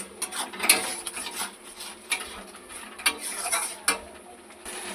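Masala with sugar and Kashmiri chilli powder is stirred in a pan, making a series of irregular scraping and clinking taps of a utensil against metal, close and without talk.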